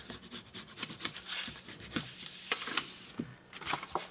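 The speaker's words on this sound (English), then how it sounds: "Fold and burnish all score lines." Paper being folded and burnished along score lines for a Stampin' Up! keepsake box, giving repeated close, soft rubbing and scraping strokes in short bursts with no talk.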